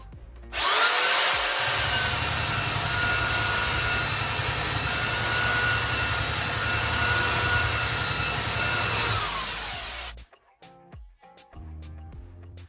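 A Parkside PBSD 900 A1 belt sander grinds loudly and steadily through timber for about nine seconds with a high whining motor tone, then spins down and stops, leaving a few clicks and handling knocks.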